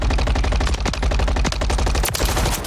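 Rapid automatic gunfire in Call of Duty: Modern Warfare 3, a loud close burst of evenly spaced shots rattling steadily for nearly three seconds, with a couple of sharper cracks cutting through near the end.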